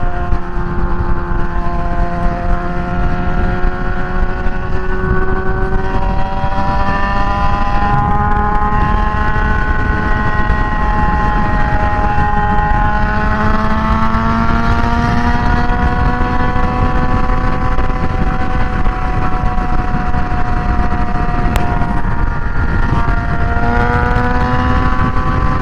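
A motorcycle geared with 15/49 sprockets cruises on the interstate at about 80 mph and 8,600 RPM, its engine whine loud and steady with slight pitch shifts, over constant wind rush.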